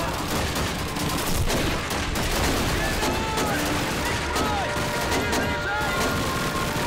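Dense, continuous battle din of explosions and gunfire from Call of Duty 2, loud and unbroken throughout with layered bursts and booms; a voice speaks faintly underneath.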